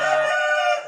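A contest rooster crows loud and close, one sustained harmonic call that holds steady and then fades at the end, with no other sound around it.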